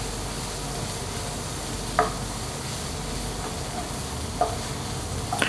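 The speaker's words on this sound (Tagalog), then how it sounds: "Gisahin lang natin hanggang sa mag-golden brown siya." Mustard seeds, garlic, ginger, onion and chili sautéing in a pan for squid masala, a steady loud sizzle throughout with a few sharp pops or spatula clinks at intervals.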